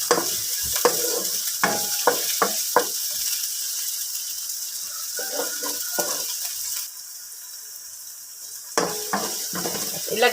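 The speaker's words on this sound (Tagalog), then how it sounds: "Pagsayabayin na natin ang sibuyas at saka yung kamatis." Onion and tomato sautéing in a pan for ginisang sayote with chicken, a steady sizzle with several sharp stirring clatters, quieter for a stretch before the scraping returns.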